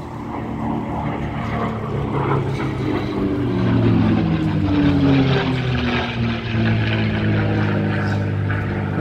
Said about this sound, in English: as we look at the Spitfire coming in, we also have the Mustang flown by Doug Hamilton.